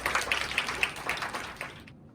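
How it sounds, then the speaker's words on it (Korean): A church youth congregation claps to welcome a preacher at a Sunday service, a dense burst of applause that stays fairly steady, then tapers and stops after about two seconds. "큰 박수로 환영할까요?"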